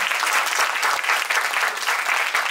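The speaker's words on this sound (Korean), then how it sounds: "박수 한번 크게 더 주시죠" Students in a lecture hall give a sustained round of clapping after an alumni special lecture, a steady, close, crackling patter that holds evenly for a couple of seconds without speech.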